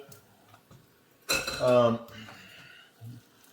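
Defrosted, strained frozen peas are tipped into a cooking pan in one short clattering, rattling rush that soon settles, with faint knocks before and after.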